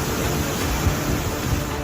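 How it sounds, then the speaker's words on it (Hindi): Waves on the flooded Musi river in Hyderabad roar in a steady, loud, broadband wash, with rushing water and wind noise filling the whole clip. "इन लहरों की गूंज साफ इशारा कर रही है कि खतरा बड़ा है।"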